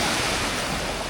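Calm sea waves lap near a small fishing boat, a loud, close, continuous rush of water with wind buffeting the microphone.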